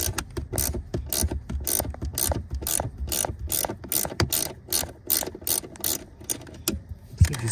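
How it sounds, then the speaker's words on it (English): A ratcheting wrench clicks steadily as it turns a bolt on a BMW E90 car seat, sharp close-up clicking bursts in an even rhythm, with a louder knock near the end. "So much easier having a ratcheting wrench"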